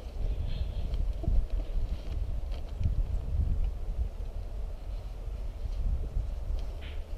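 Gusty wind buffets an outdoor beehive during winter feeding, a low rumbling blow with uneven swells and occasional faint knocks, no talk heard.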